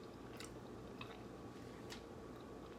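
Close, steady chewing of a crunchy, crispy buttermilk biscuit eaten hot, with soft crunches and bites running continuously through the clip and no talking.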